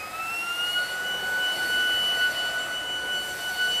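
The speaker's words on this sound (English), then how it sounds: "Definitely one of the louder cordless vacuums I've tested." A Dibea F20 Pro cordless vacuum runs at max power with a loud, steady high-pitched motor whine and airflow hiss, constant throughout without pauses.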